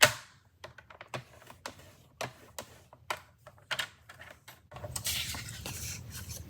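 Cardstock being scored with a paper trimmer blade while making a handmade card: a series of short, close, crisp clicks and scrapes in an irregular rhythm, followed by a denser rustling stretch at the end.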